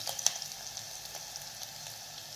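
Chopped onion and garlic sauté in hot oil in a pan for masala khichdi, a soft continuous sizzle with faint crackles and a few light ticks, fairly quiet and without talk.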